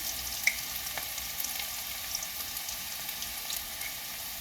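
A single bay leaf frying in hot oil at the start of cooking Puerto Rican style beans gives a steady, faint sizzle with soft crackles and small pops, with no talking over it.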